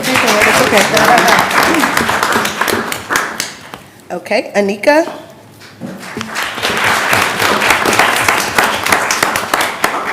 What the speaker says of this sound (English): Y'all can clap for your people as they come.